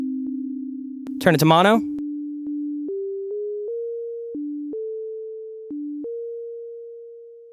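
A Serum synth sine-wave bell patch with a touch of unison and added release plays a short melody of steady, clean pitched notes stepping up and down. A brief spoken phrase cuts in near the start.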